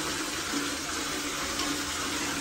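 Hot water runs steadily from a geyser tap, a continuous hissing splash of the stream that stays loud and unbroken throughout.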